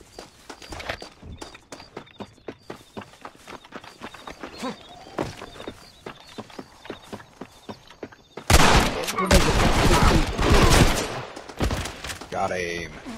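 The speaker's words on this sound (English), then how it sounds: "You shoot each other." Gunfire rings out in the Red Dead video game, with scattered shots and hoofbeat-like clip-clopping early on, then a dense, loud burst of shooting near the end, while players talk over it.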